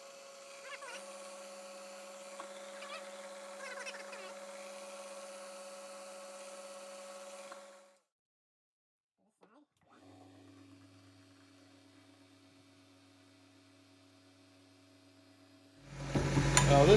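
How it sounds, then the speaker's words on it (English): A drill press bores mounting holes in a soft aluminum front plate for a six-cycle engine build, a faint steady motor hum with light cutting noise, then a pause and a second hum before a louder burst at the end. "So the first thing I'm going to do is drill the 4 holes that mount onto the sides of the engine"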